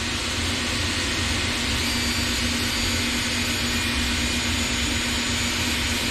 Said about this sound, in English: First thing we want to do is bust out the Dremel.